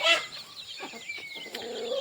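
Native naati country chickens cluck in short, sharp, repeated bursts close by, with a louder call at the start and quieter clucking trailing off afterwards.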